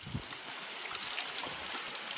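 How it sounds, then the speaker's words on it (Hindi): Heavy rain pours down on a village during a storm, a steady hissing wash of drops with soft trickling and splashing water close by. "बारिश बहुत तेज चल रही है।"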